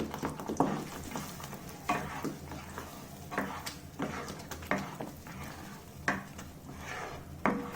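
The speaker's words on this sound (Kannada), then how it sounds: "ಈ ಮಸಾಲೆ ನೀಟಾಗಿ ಎಣ್ಣೆಲಿ ಫ್ರೈ ಆಗಿ ಮೇಲ್ಗಡೆ ಎಣ್ಣೆ ಬಿಟ್ಕೊಳ್ಳೋವರೆಗೂ ಮಸಾಲೆನ ನಾವು ಹುರ್ಕೋಬೇಕಾಗತ್ತೆ" Ground masala paste for a restaurant-style kaju (cashew) curry fries in oil while a spoon scrapes and stirs, giving repeated clinks and scrapes against the pan over a constant low sizzle, close and fairly quiet.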